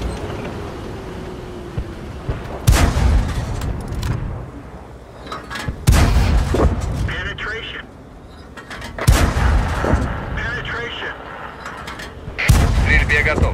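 Tank guns fire in the video game World of Tanks: four heavy, loud booms spaced a few seconds apart, with mechanical clanks and rumble between shots. A voice speaks between the blasts.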